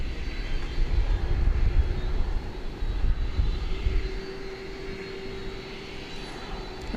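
Jet aircraft engines spool up at DFW Airport, a broad steady roar heard from behind the perimeter fence that gradually settles into a sustained hum at a moderate distance.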